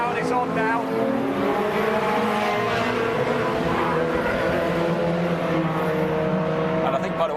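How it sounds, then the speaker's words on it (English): Cockshoot Cup race cars launch from the start at Silverstone, a pack of engines revving hard in a loud sustained roar with tyre squeal, while a commentator talks over the noise. "So off go the Cockshoot Cup cars."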